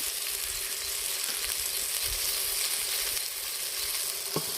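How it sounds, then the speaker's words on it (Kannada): Chopped tomato and poppy seeds sizzle steadily in a pan over an outdoor wood-fired stove, a close, continuous crackling fry with a few faint stirring knocks and no talking. "ಟೊಮೊಟೊನ ಸ್ವಲ್ಪ ಫ್ರೈ ಮಾಡ್ಕೋಬೇಕು"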